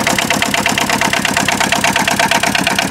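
An Aixam Mega Multitruck diesel engine idles, heard up close with the bonnet open as a loud, steady, fast-pulsing clatter that does not let up.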